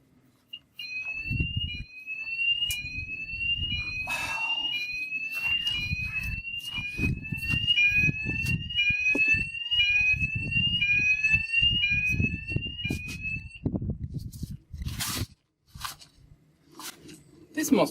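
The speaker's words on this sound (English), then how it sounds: "No, just again, fire alarm." A fire alarm beeps in a steady repeating pattern of high chirps for most of the stretch while people talk underneath, then stops near the end.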